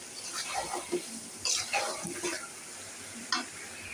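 A bay leaf and three or four cardamom pods sizzle in oil for a hog plum pickle, a soft crackle broken by a few brief scraping knocks.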